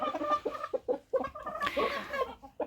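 Chickens, including a rooster, cluck in short, irregular bursts close by, with a louder, squawkier call near the end.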